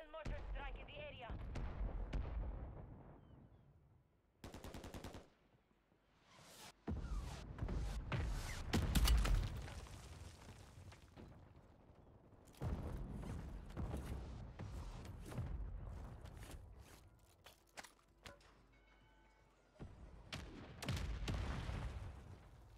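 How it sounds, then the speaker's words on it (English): Mortar strikes in Call of Duty land as repeated heavy booms and crackling blasts, some close and loud, others more distant. Game voices and radio chatter talk over the explosions. "Hostile mortar strike in the area."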